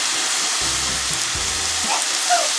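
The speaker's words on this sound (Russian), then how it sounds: "Так, вот у нас жарятся котлетки." Meat patties frying in a skillet, a steady close sizzle and crackle running throughout with no talking, in a home kitchen.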